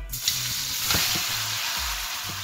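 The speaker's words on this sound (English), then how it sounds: "I'm going to start cooking the meat" Goat meat cooks in a pot for Jamaican curry goat, sizzling and crackling steadily up close with a few soft scrapes of stirring, no voices.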